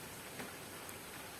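Steady rain falls in a calm night setting, a soft, even hiss of drops that holds throughout with no pauses.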